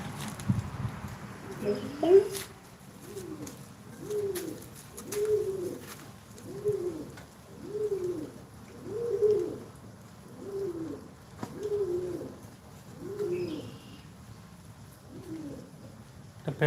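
Pigeon cooing close by outdoors, a rhythmic series of about a dozen low, throaty coos evenly spaced, with faint background sounds and occasional clicks.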